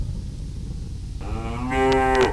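Cartoonish digitized cow moo from the 1989 Atari arcade driving game Hard Drivin', set off by hitting a cow; a single loud, harmonic bellow rises out of the game's steady engine drone and swells louder toward the end.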